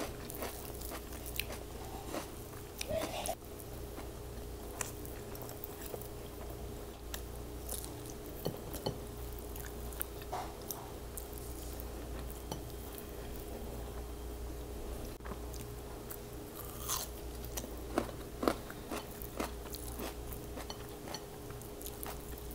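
Close, quiet chewing and biting during a Filipino breakfast mukbang, with soft crunches and squishy mastication repeating irregularly over a low steady background hum.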